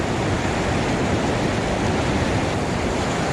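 Steady, dense rush of fast-flowing water from a small waterfall on a trout river, loud and continuous with no pauses.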